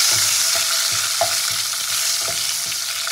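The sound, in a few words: frying chopped tomato in oil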